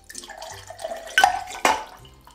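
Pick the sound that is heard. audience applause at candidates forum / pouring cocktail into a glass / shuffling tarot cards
pouring cocktail into a glass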